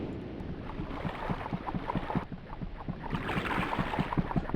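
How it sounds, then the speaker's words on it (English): Low rhythmic chugging pulses inside the Myst game world, like an engine struggling to start, repeat steadily under a broad airy wash, holding moderate loudness throughout with a brief dip midway. "It's like an engine or something like that trying to start up."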